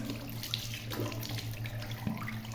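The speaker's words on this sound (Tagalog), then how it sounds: "Hugasan na natin ang mukha." Tap water runs steadily into a sink during face washing, a close continuous splash with small shifts in flow and no talking.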